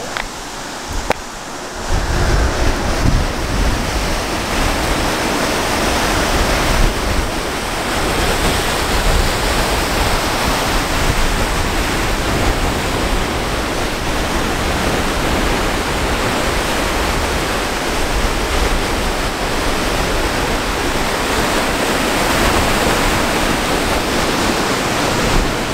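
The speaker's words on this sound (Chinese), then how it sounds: "给你们看海" Sea waves roll in at the seashore on a sunny day, a loud, continuous surf roar with wind noise on the microphone, steady throughout with no talking.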